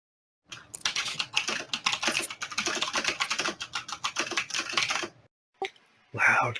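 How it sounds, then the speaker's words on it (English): Loud, rapid typing on a computer keyboard, close up, a dense clatter of keystrokes for about four and a half seconds before stopping, then a couple of short isolated noises. "Loud keyboard."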